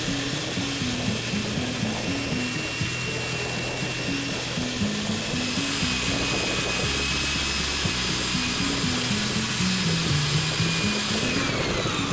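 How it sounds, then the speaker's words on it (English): A power grinder grinds cured fiberglass on a boat hull, a continuous loud whine with a wavering motor pitch as it bears down and eases off, steady throughout without talk. "the glass is fully cured, it's time to start grinding and smoothing it down."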